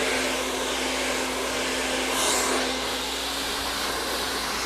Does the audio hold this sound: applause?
no